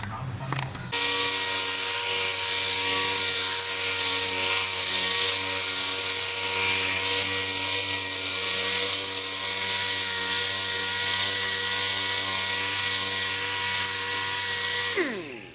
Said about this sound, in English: I'm going to go ahead, I'm going to sand this down.